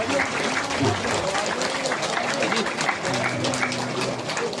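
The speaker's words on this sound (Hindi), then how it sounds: "आपकी तालियां रुकनी नहीं चाहिए" An audience at a public event in Uttarkashi, attended by the Chief Minister, claps in a dense, steady wash of applause that lasts throughout, with voices speaking over it.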